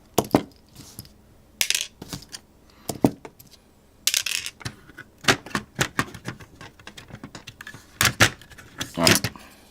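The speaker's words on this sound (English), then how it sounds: "we gotta try to get the screwdriver in here to undo these two screws" A screwdriver works long screws out of an Acer Aspire E551 laptop: scattered metallic clicks, scrapes and rattles close by, irregular bursts with brief pauses.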